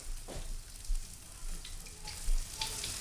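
Mushrooms and minced garlic sizzle in a pan for chicken Marsala, giving a steady close frying hiss with a few soft low knocks from the pan or utensil.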